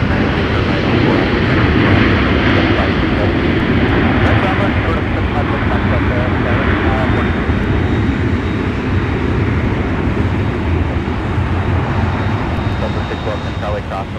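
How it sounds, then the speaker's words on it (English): An Airbus A321 touches down on a winter airport runway, its engines giving a loud, continuous roar that holds steady throughout with no break. "we'll take another look at our A321 touching down"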